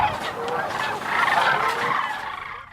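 Loud, rolling, trumpeting calls of cranes in Nebraska, several overlapping honks from a flock nearby, lasting a few seconds.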